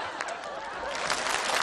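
A short, dense burst of audience applause in a hall during a comedy sketch, many hands clapping at once for under two seconds.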